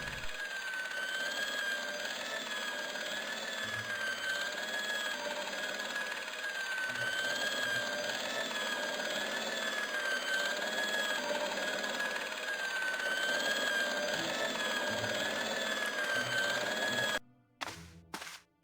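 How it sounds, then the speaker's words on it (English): Industrial polishing machine droning in a hospital corridor in the game Broken Sword: Shadow of the Templars, a steady whining mechanical hum with a wavering high tone that runs alone until it cuts off near the end. "I saw the source of the hellish noise which echoed through the corridors. It was an industrial polishing machine"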